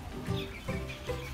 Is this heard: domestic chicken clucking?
yes